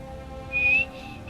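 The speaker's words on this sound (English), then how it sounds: "I love whistling at people, it's so funny." A single short, clear whistle in a video game, rising slightly in pitch, heard alone over a quiet background.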